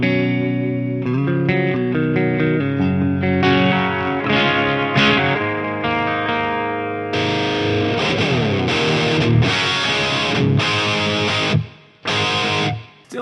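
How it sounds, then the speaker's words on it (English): Electric guitar played through a BOSS GT-1000 with a plate reverb, sustained chords and notes ringing out with a lush, washy tail, loud and alone, ending with a couple of short choppy strums. "Just a little bit of reverb there."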